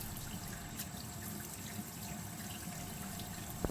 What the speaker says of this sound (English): We want to rinse the brush out with hot water.